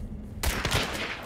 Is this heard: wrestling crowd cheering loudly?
no